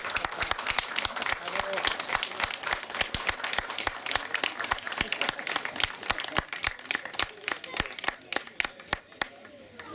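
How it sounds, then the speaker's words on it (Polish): Spectators at a hill-climb motorsport awards ceremony applaud steadily for the drivers, a busy wash of claps from a crowd that grows sparser and more scattered toward the close. "Duże brawa"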